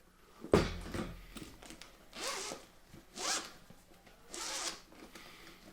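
A sharp click, then several quick pulls of the metal zipper on a headphone case in short strokes, close and fairly quiet.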